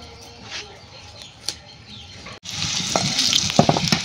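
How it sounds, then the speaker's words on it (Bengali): Potatoes frying in a pan, a soft sizzle with faint stirring that suddenly jumps to a louder, dense crackling hiss after a brief gap, close up with occasional scraping. "আলুগুলো একটু ভেজে নিই।"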